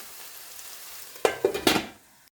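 Onions frying in oil in a covered pan, a faint sizzle under quiet room tone followed by a few short clattering bursts of pan or lid movement before the sound cuts off.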